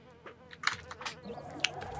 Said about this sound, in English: Sting bees. Those things fire fast.